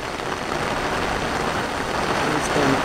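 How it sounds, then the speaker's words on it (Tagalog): Heavy rain falls during the rainy season around an Igorot stone village, a steady, dense, close hiss that continues without a break. "Nagkataon lang malakas ang ulan."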